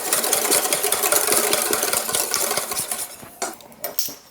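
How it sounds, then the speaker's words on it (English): Whisking a milk batter for corn sticks of egg, half and half and milk, a quick rapid rattle of whisk against bowl for about three seconds, then a few softer taps, close and moderately quiet. "We're going to whisk this together."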